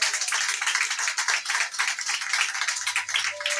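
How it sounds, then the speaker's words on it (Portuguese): A church congregation claps continuously, dense and sustained applause filling the space without pause. "Pode aplaudir ao Senhor Jesus?"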